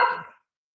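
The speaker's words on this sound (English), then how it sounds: "Even have dogs joining us." A single short dog bark sounds outdoors on a pleasant day, a brief close burst that cuts off quickly into silence.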